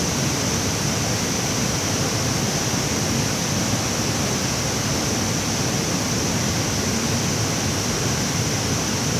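A waterfall at Tad Tham Champi in Laos pours steadily, making a continuous, even rushing roar with no breaks and no voices.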